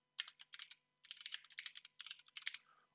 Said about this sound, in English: And now we can type in our name of our website.